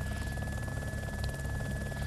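A helicopter in the video game DayZ Epoch drones steadily throughout, a dense continuous rotor and engine rumble with a constant high whine, turned fairly low.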